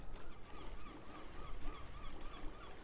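Birds squawk and honk repeatedly in the fishing game Hooked, Inc., a faint, busy cluster of goose-like calls over a soft watery background, with no talking.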